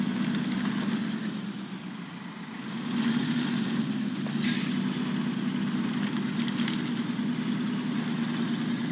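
A truck in the video game Snowrunner idles with a steady low engine rumble, and a brief sharp hiss of air brake release cuts through midway; no one speaks.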